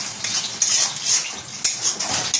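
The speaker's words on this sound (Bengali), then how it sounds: "দেব হলুদ, দেব লাল লঙ্কার গুঁড়ো আর অল্প একটু জিরে দিয়ে মশলাটাকে বেশ ভালোভাবে কষিয়ে নেব" Turmeric, red chilli powder and cumin are sautéed in a pan, with a spatula clinking and scraping against the metal in quick, uneven strokes, close and fairly loud.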